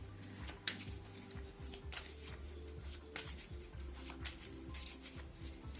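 A tarot card deck is shuffled with a continuous soft riffling and flicking of cards, faint and close, in a steady flutter over a low background hum.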